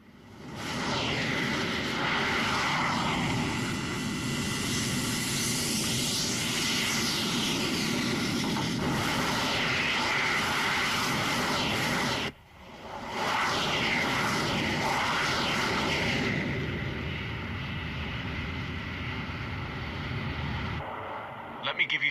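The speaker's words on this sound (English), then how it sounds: "Looks like Area 88 has dispatched its planes." MiG-27D fighter planes roar in a video game as a sustained, loud broadband engine drone, briefly cutting out near the middle before resuming and fading toward the end.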